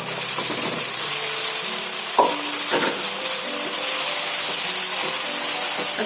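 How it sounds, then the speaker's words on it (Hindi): Potatoes, peas and tender cooked mutton being stirred together in a hot pan, with a steady close sizzle of frying and scattered scraping and clinking of the spoon against the pan throughout. "अच्छे से मिक्स करूंगी सब्जी के साथ"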